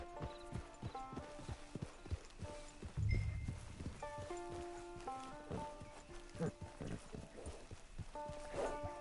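Steady clip-clop of horse hooves walking at an even rhythm in the video game Red Dead Redemption 2, with a soft musical tone in the background.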